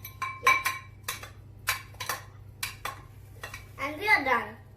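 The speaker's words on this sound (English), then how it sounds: "Now what we have to do is just mix it all up." Fruit chaat dressed with lemon being mixed in a bowl, with a series of distinct clinks and scrapes of a utensil against the dish, and a voice briefly at the end.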